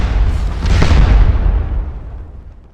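A 12-pound cannon fires in the Napoleonic Waterloo battle game Scourge of War: Remastered, one loud deep boom with a sharp crack that rolls and fades away over about two seconds.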